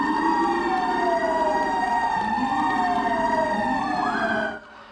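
NYPD police sirens wail together outside a New York hospital during a tribute to frontline medical workers. Several loud, overlapping sirens rise and fall in long sweeps, cutting off near the end.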